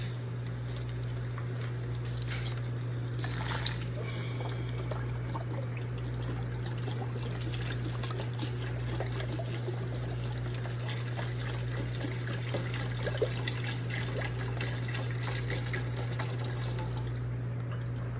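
Chicken broth pours steadily into a soup pot for a Tuscan-style zuppa, a continuous trickling stream of liquid with a low steady hum from the kitchen underneath, no talking.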